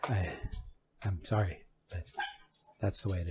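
A female German Shepherd in heat barks and yips in short bursts nearby, the barks interleaved with a man's close-up talking.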